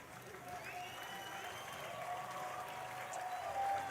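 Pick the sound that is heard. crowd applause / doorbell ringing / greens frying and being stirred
crowd applause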